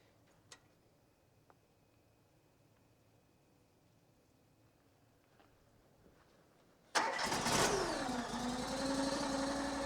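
Allwood gas log splitter: a few faint ticks and clicks in near silence, then its gas engine starts abruptly about two-thirds through and keeps running as a loud, steady, rumbling drone to the end.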